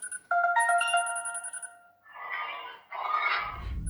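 A phone ringtone plays as a short bright melodic phrase of stacked notes, then gives way to two louder rushing bursts and a low rumble. The call is made to a doctor.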